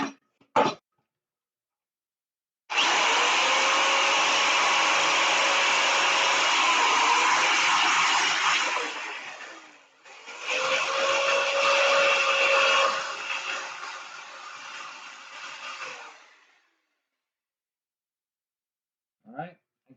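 A jigsaw cuts close and loud to clean up a rafter cut, running in two long bursts of about seven seconds each with a brief pause between and quiet before and after.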